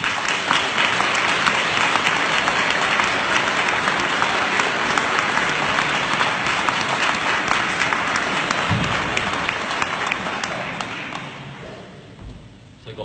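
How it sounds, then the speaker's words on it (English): A crowd at a speech event applauds two volunteers with long, loud, dense clapping that holds steady for around ten seconds, then thins out and fades as the final claps trail off. "Give them a round of applause."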